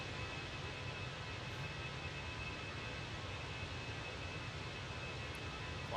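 A Fenix A320 airliner climbs out of Brussels in a flight simulator game, its engines a steady, unbroken roar throughout.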